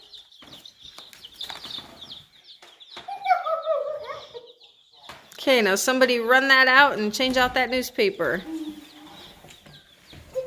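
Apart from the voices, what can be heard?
baby chickens peeping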